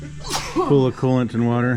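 A single sharp sneeze bursts out at close range near an engine being stripped from a mini jet boat, followed by people talking.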